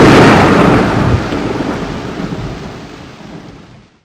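A heavy rolling thunderclap fills the start of a thunderstorm with rain, loud and broad, then rumbles on and gradually fades away over several seconds.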